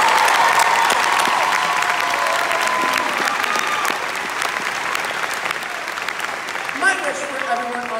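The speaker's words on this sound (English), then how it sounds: "Please, a nice round of applause for all these lovely people." A theatre audience at an Arts for Autism event gives a round of applause, with dense sustained clapping and some cheering. The clapping fades slightly toward the end as a voice starts to speak over it.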